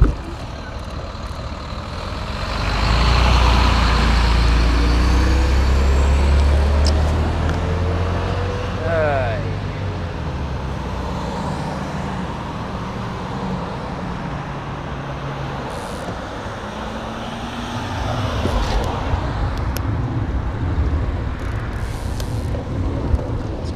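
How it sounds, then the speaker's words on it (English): Heavy road traffic rumbles past a waiting commuter cyclist, a large truck surging loudly nearby early on and more vehicles passing later, with someone talking over the noise. "I'm just wasting time waiting for traffic to pass"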